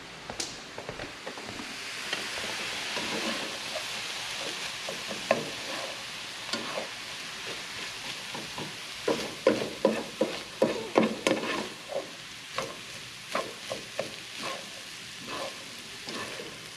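Fried rice sizzles in a pan with soy sauce drizzled in, a steady crackling hiss broken by frequent scraping stirs and clinks of a utensil against the pan, close and fairly loud.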